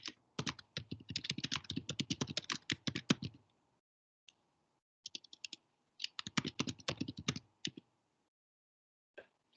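Fingers typing on a computer keyboard, quick bursts of close, crisp key clicks separated by short pauses, quiet and with no talking.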